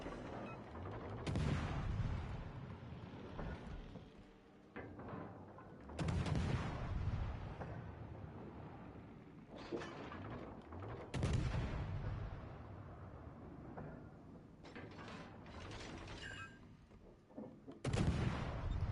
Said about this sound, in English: Conqueror is shooting AP at me?